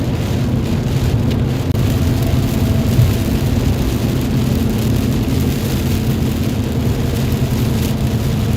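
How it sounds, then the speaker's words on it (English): Heavy rain pours down steadily during a storm in the Dallas–Fort Worth area, a dense, loud, continuous rush with a low rumble beneath it and no voices. "Raining pretty good, although it looks kind of light right where we are."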